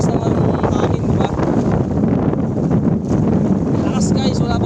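Strong storm wind at sea aboard a fishing boat roars and buffets the microphone in a loud, continuous rush with gusty surges throughout.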